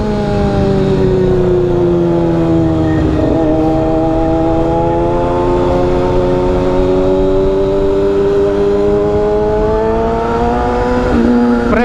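A Kawasaki Z400 motorcycle on a short ride, its engine droning loud and close with a steady tone that dips and rises as the revs change, with no talking over it.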